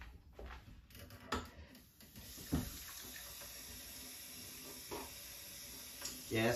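Water runs steadily from a tap into a kitchen sink for several seconds while cooking, with a few clatters and a voice speaking briefly over it.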